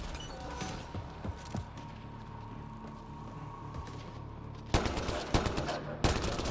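Gunfire from enemies in a video game starts as scattered distant shots beneath a humming background, then breaks into loud, close rapid volleys near the end.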